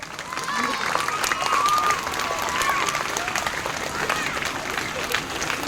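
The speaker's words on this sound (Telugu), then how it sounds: "ఒకసారి గట్టిగా సార్కి మనం క్లాప్స్ కొడదాం" Loud, dense applause from schoolchildren clapping for their teacher at a school celebration, a continuous crowd roar of hands that holds steady throughout, with voices mixed in.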